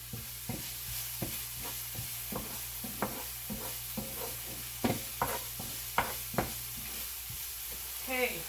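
Garlic, peppers and onion sizzle steadily in a frying pan, with a spoon scraping and stirring in regular strokes over the constant hiss.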